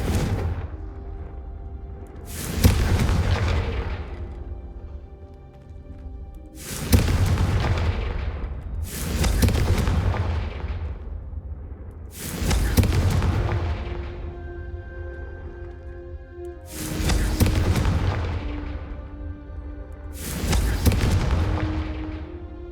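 Repeated booming Confringo spell explosions in Hogwarts Legacy, about seven loud, close blasts spaced a few seconds apart, each a sharp crack with a long rumbling decay.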